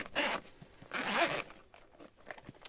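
Zipper on a Nove watch case with a branded zip pull, unzipped in two close, rasping pulls with brief handling rustles after, no talking.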